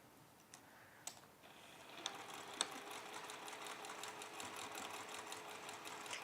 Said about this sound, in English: And then we'll take that to our sewing machine